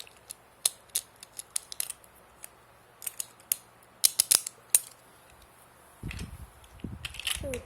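Sharp plastic clicks and ratcheting snaps from a Beyblade launcher, spaced irregularly, followed by a short burst of rough winding rattle at the end.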